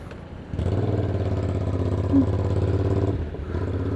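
A Black Widow motorcycle idles with its exhaust knocked off after a rear-end collision, a loud, raw, steady low chug that drops briefly and picks back up, close by and alone.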